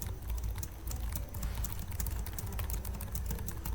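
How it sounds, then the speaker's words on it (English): Fingers type on a computer keyboard in a quick, continuous patter of close, light clicks that runs for a few seconds without a break. "When we typing anything,"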